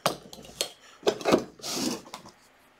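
A collectible quick-adjust wrench slides to size in a few short metallic scrapes and rubs at close range, some brief and clicking, one longer drawn-out rasp.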